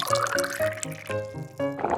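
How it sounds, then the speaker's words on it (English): Water pours into a container in a few short bursts, the gurgling pitch rising as it fills, close by. "Water."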